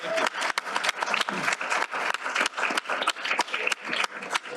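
Audience applause at a faculty book celebration, dense steady clapping from a crowd that carries on for several seconds without pause.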